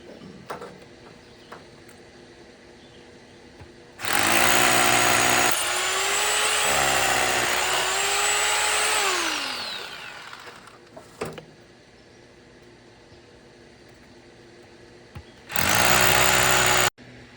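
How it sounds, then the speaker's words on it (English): A power drill bores into stamped concrete along the seams, two loud bursts of high whining drilling with pitch shifts, the first long and the second short, separated by quiet room tone. "I'm gonna try to drill right into where the seams are"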